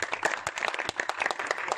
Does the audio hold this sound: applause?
yes